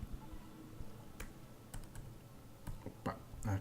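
Keys clacking on a computer keyboard, including taps of the up arrow, come as scattered sharp clicks in a quiet room with a low background hum.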